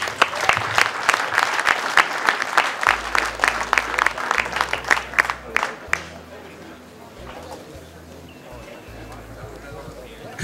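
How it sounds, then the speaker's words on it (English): A crowd at a bass fishing tournament award ceremony claps loudly for winners, dense applause for about six seconds, then it fades into quieter murmuring and scattered sounds. "Give a round of applause for Troy Fleming and Casey Rimes"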